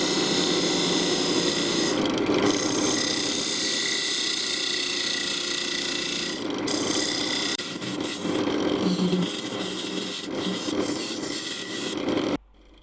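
Continuous scraping and hissing of a skew chisel truing the inside of a spinning yew box on a lathe, with a steady motor hum underneath, shifting slightly in tone before stopping abruptly.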